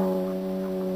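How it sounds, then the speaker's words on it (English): A foghorn sounding out in a bay, one sustained low harmonic blast held steady and loud, with no voices over it. "Just a foghorn out in the bay."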